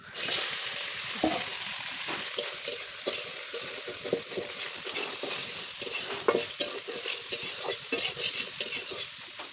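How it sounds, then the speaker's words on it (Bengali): Soybean chunks sizzle steadily in hot oil while a utensil scrapes and stirs with repeated clinks, fairly close and continuous, with no talking. "এখন আমি সয়াবিনগুলো ভেজে নেব"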